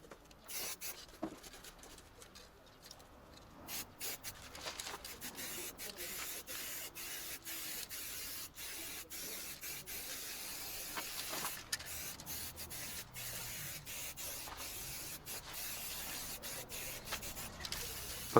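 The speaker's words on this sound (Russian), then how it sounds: "и покрасим баллоном." An aerosol spray can hisses steadily as it paints a Volvo FH12 truck wheel rim in a garage, continuous close spraying broken by brief pauses and small knocks.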